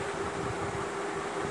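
A mixer grinder runs dry, grinding poppy seeds without water for a Bengali aloo posto paste, giving a steady, loud motor whine and whirring hum that holds unbroken from start to finish.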